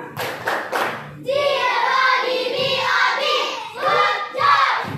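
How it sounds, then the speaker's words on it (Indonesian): Classmates in a school classroom applaud a group presentation: a few sharp claps open the scene, then a dense wash of clapping and children's voices carries on loud and near for several seconds. "Oke, tepuk tangan ke kelompok."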